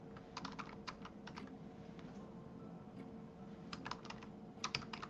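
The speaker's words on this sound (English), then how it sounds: "I can hear your keyboard," Faint computer-keyboard typing comes in quick bursts of clicks over a low background hum, with short pauses between the runs of keystrokes.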